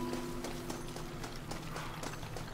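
Horse hooves clip-clop at a steady run in the zombie western game Red Dead Redemption: Undead Nightmare, a rhythmic patter of hoofbeats over game ambience without speech.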